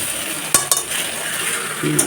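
Egg curry masala, spiced with ginger-garlic paste, is stirred and fried in a pan, giving a steady sizzle with a couple of sharp spoon clinks against the metal.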